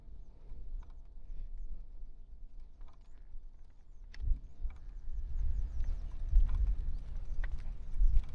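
Hooves clop irregularly on the ground as a herd of large and small buffalo walks past in a village, growing louder and busier toward the end, with faint rattling in the background.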